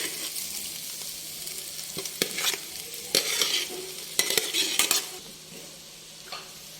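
Paneer fried rice is stir-fried in a pan, with loud intermittent bursts of spatula scraping and clanking over a low, steady sizzle that quiets toward the end.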